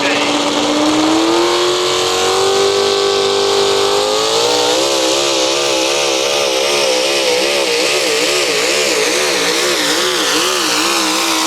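A competition pulling tractor's engine roars loud and close while pulling, its pitch climbing early, then wavering and surging as it digs in, with an announcer talking over it.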